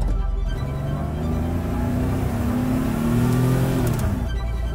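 A Volkswagen T3 Carrera van with a Porsche engine of over 200 horsepower accelerates, its engine note rising steadily and loud from inside the cabin through a gear change, with no talk.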